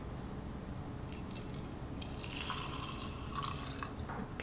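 Liquid being poured while preparing a 90-milliliter tincture, heard as soft, close trickling and dripping that builds gradually and ends with a brief louder splash.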